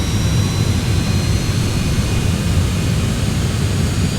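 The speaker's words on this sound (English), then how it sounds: "and the engines are starting." Twin jet engines of a Citation X spooling up during start in a flight simulator, giving a steady loud roar with a high whine running throughout.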